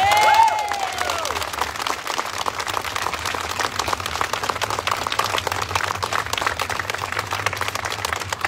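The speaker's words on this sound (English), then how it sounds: "I would like a round of applause for the journal Scottish Affairs" A crowd at an outdoor Speakers' Corner gathering in Edinburgh breaks into steady applause, dense clapping that holds evenly throughout, with a brief voice or whistle at the very start.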